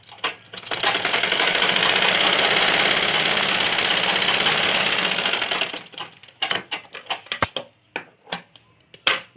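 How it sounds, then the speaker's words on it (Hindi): Sewing machine stitching a kurti seam, running in one loud continuous burst for about five seconds, then stopping and restarting in short choppy spurts and single needle strokes. "चाहे तो किनारे किनारे एक सिलाई और लगा दे।"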